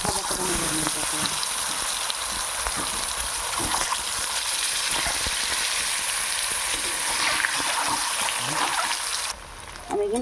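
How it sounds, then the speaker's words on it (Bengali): Boiled eggs frying in oil with salt and turmeric, a loud, steady close sizzle and bubbling hiss that drops away abruptly near the end. "তেলের মধ্যে লবণ আর হলুদটা দিয়ে একবার ডিমটা ভাজা করি"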